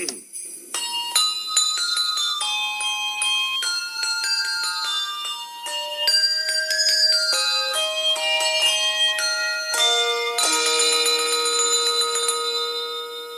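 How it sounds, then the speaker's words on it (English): Hershey's Kisses-shaped handbells ringing out the tune of We Wish You a Merry Christmas, a clear sequence of bright single bell notes one after another, close and alone. "ring them to the tune of Wish You a Merry Christmas"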